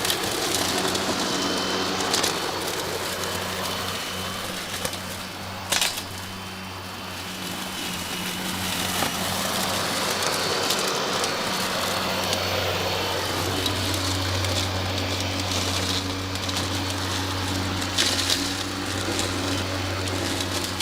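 A Yardcare BLM40410 battery lawn mower runs with a steady electric motor whir, low hum and broad rushing noise, continuous for the whole stretch with small shifts in pitch.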